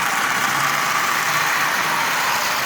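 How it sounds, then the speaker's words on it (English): Continuous whirring buzz of a Marx 490 toy locomotive shell driven by a pre-war motor, running steadily and fairly loud with an even, unbroken drone and no pauses. "So an old Marx 490 shell, that pre-war motor, it gives you a running locomotive"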